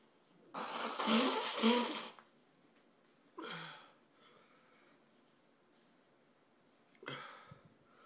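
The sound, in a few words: nose blowing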